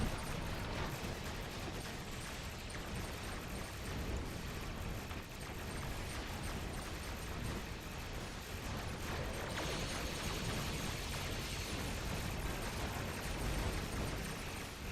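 A ship explodes in the space combat game Star Trek Online: a sustained, dense roar of blasts and crackling bursts that fills the whole stretch at steady loudness, with no voices over it.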